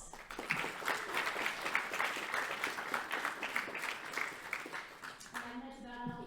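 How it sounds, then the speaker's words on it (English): A student audience at a League of Legends esports final gives a round of applause, steady clapping that fades out near the end as the room quiets. "So another round of applause"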